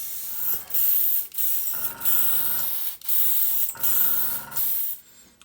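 Airbrush spraying weathering paint over an OO gauge model railway layout, a steady close hiss in several bursts, with a brief pause between each pass.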